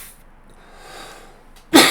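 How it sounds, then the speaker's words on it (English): A single short, sharp cough bursts out loud and close at the end, after a stretch of quiet background hiss. "sorry for the cough"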